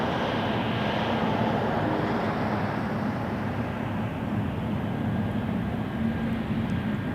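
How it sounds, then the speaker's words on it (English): Air Canada airliner in minty blue livery at Toronto Pearson Airport, a steady broadband jet engine roar heard from a distance that holds constant throughout, with no voices. "It's a minty Air Canada as well here."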